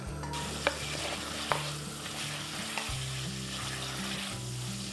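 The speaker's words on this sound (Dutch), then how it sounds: "We gaan de chorizo in zijn eigen vet bakken." Chorizo fries in its own fat in a pan, a loud, close, steady sizzle with crackling pops and a few scraping stirs.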